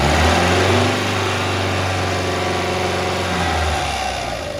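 An Isuzu engine for a 1998-2004 Rodeo runs steadily at 3000 rpm, close and fairly loud, with a slight dip near the end; no talking.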